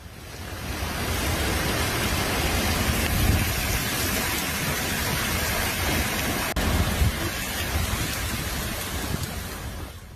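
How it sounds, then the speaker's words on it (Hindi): Heavy rain during flooding in Anand, Gujarat, a steady dense hiss of downpour with low rumbling underneath, continuous and fairly loud throughout with no talking. "गुजरात के आणंद में भारी बारिश ने हालात बिगाड़े हैं।"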